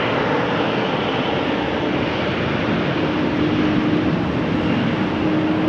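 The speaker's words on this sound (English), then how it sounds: "Embraer 175, KLM flight 1817 to Frankfurt." A KLM Embraer 175 airliner at rainy Amsterdam Schiphol Airport produces a steady, loud jet engine roar and rumble that holds unbroken throughout, with no voices.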